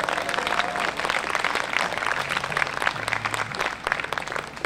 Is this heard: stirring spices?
no